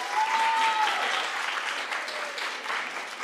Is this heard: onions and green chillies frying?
no